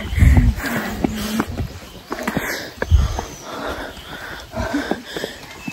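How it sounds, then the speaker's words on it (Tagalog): A person out of breath while hiking uphill on a steep mountain trail, panting in repeated heavy, rhythmic breaths close to the ear, with some rustling and footstep-like knocks between them. "Hingal na ako agad."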